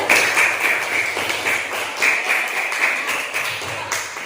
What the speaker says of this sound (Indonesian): tepuk tangan untuk Mas Dion dan Mbak Tiza